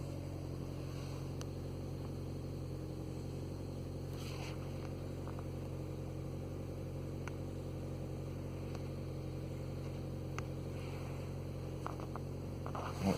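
A Vauxhall Vectra C with the 1.8 XER engine, which has a cutting-out fault, idles with a steady, even hum, faint and unchanging throughout, with a few light ticks and clicks.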